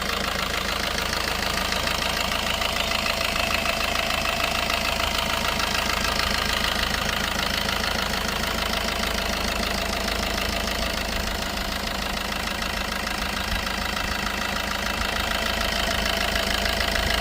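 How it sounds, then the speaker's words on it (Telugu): A Maruti Ciaz diesel engine idles close by, a steady rattling knock running evenly throughout with no voices. "నాయిస్ కానీ ఏం రావట్లేదు ఇంజిన్ సౌండ్ కూడా బాగుంది"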